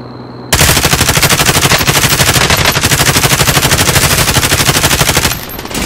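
Sustained automatic gunfire in the video game Warzone, a loud, rapid, continuous burst of machine-gun shots lasting several seconds before cutting off abruptly, with no talking over it.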